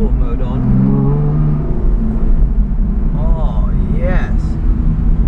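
An Aston Martin supercar in sport mode accelerates hard with a loud, rising engine note and revving close by, while someone talks over it.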